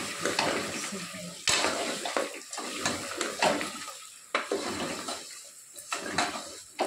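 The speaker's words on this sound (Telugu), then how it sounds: "ఇంకా మనం దీంట్లోకి మంచిగా ఒకసారి కలుపుకుంటాం. కింద అడుగు కలుపుకుంటాం." Mutton curry stirred in a pot, with repeated scraping and sloshing strokes and a steady sizzle underneath, close and fairly loud.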